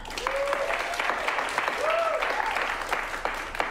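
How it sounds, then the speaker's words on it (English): Improv comedy show audience clapping to vote for a film in a showdown, a steady wash of applause with some whoops and cheering voices over it. "But you'll clap loudest for the 2 films you want to see go on to the next act"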